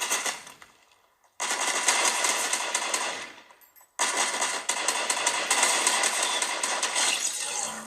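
Rapid gunfire in Fortnite played on a POCO F3 5G phone, two long loud bursts of fast crackling shots separated by a short silence, with no voices.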